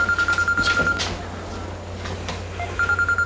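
A cellphone rings indoors in a drama scene with a repeating electronic ringtone. The pulsed bursts play at the start, pause through a stretch of quieter background, then return at the end, clear and fairly close.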